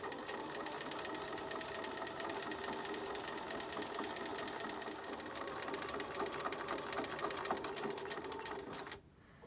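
Sewing machine stitching through thick folded stretch fabric for a beanie, a steady fast close whir of needle strokes running continuously for about nine seconds before cutting off abruptly.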